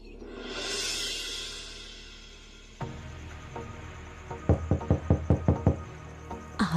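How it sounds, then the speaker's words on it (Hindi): Cartoon knocking on a door: scattered taps lead into a rapid series of about eight loud, sharp knocks, followed by a couple more near the end, close and clear after a soft opening swell. "आज चाहे कितना भी दरवाजा पीटे"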